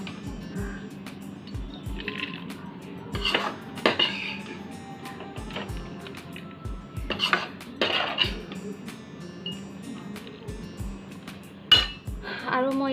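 Food goes into a pressure cooker with repeated metallic clinks and clatters of pots, lid and utensils, interspersed with soft wet sounds, while a person talks intermittently.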